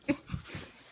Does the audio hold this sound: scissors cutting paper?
no